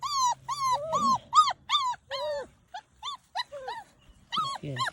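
Puppies whimper and yip in a rapid run of high, rising cries, with low growls mixed in near the start, close and insistent.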